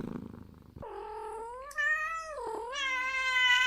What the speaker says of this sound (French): le chat de l'appartement